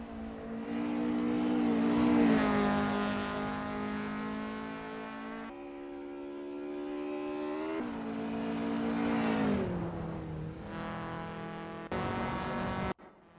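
A Lotus Cortina race car in Assetto Corsa eases out onto the 1964 Solitude circuit, its engine droning and revving steadily through gear changes, rising and falling in pitch, loud and close throughout.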